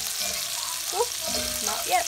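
Beef short ribs being stirred in a pan on the stove, with a steady soft sizzle of frying and faint scraping of the stir, plus a brief spoken word.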